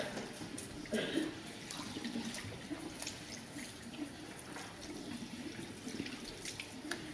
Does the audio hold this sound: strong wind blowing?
no